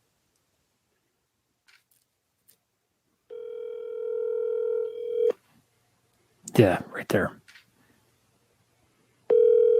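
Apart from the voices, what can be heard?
telephone call ringing unanswered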